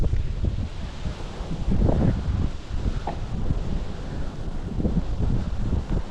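Steady gusting wind buffets the microphone, a low rumbling roar with occasional stronger blasts throughout.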